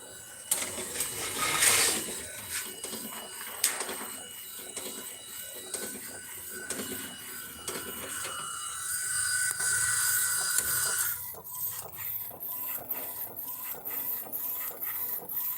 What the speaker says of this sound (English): Looks like it's going to go for a second one, and the second one's going to start printing.